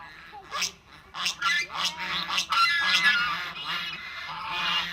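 Farmyard poultry kept outdoors in Guangdong, with honking, goose-like calls repeating in loud bursts close by over a steady murmur, some talk faintly mixed in.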